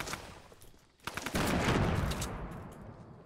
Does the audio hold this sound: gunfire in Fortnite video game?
yes